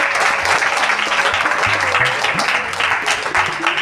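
A church congregation claps together in loud, sustained applause filling the space, with a voice talking over it throughout.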